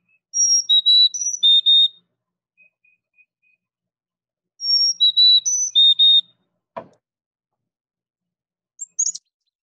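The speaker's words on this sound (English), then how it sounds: "I'm trying to find the chickadee dee dee" A chickadee sings alone in clear, high whistled phrases, two bursts of several notes separated by a pause, with a brief knock and a faint final chirp near the end.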